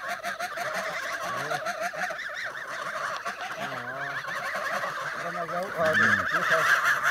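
A flock of geese honking and cackling continuously, many calls overlapping nearby, with a brief louder burst near the end.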